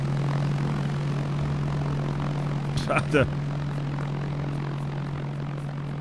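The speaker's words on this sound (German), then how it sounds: "hat sich ein Flugzeug gekauft oder was?" Propeller airplane droning steadily in Arma 3 Exile, a constant engine hum with a brief burst of other game sounds midway and a short spoken exclamation.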